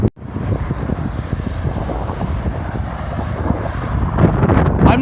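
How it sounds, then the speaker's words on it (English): Strong gusting wind buffets a microphone beside an interstate highway near the Nevada border, a loud continuous roar and rumble that swells toward the end, with traffic noise mixed in. "the wind was just blowing me off the road"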